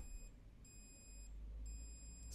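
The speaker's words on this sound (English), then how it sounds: "The alarm is going off." A Bluetti AC200Max 2200 W portable power station sounds its inverter overload alarm: three sustained high-pitched electronic beeps repeating at a steady rhythm, close and clear over a low background hum.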